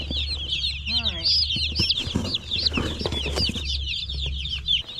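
Newly arrived chicks on a homestead peep and cheep in a busy, high-pitched chorus close by, with a steady low hum underneath and a voice briefly heard among them.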